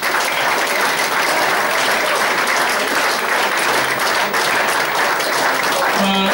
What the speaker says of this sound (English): another round of applause for all the players